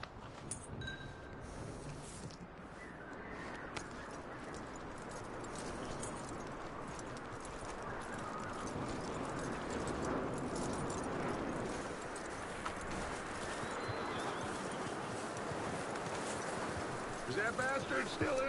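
Horse hooves clip-clopping in a steady trotting rhythm over a constant outdoor ambience in Red Dead Redemption 2, moderately close, with no one speaking.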